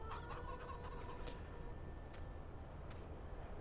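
Chickens cluck softly in a Farming Simulator 19 farm scene, a few brief clucks early on over a steady loud background hum, without speech.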